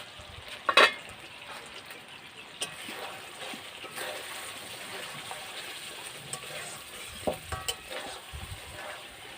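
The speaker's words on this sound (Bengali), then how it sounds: "ঢাকনাটা খুলে একটু নাড়াচাড়া করে দেব" Pointed gourd frying in spices in a pan, stirred with a few sharp scrapes and clinks over a faint, steady sizzle that stays quiet in between.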